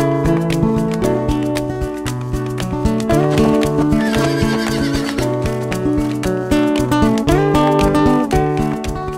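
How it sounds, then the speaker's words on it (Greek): A horse whinnies repeatedly over steady clip-clopping hooves on a mountain trail at Olympus near Veria, loud and close; dense layered tones run throughout with no talking. "το άλογο."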